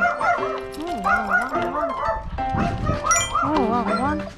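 A dog gives a string of high, pitch-sliding yips and whiny barks close by, in short repeated bursts with brief pauses between them.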